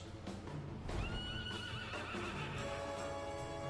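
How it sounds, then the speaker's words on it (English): A horse neighs in Dragon Quest XI S, a loud whinny with a falling pitch that sits over steady game music and effects, with no talk in between. "I was trying to hit the horse."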